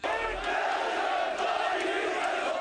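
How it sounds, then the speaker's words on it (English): Crowds in the streets of Turkey shout and roar while confronting tanks and troops, a dense, continuous mass of voices heard at a distance with no single speaker standing out. "Crowds of people heeded his call, confronting the tanks and the troops, even as they opened fire"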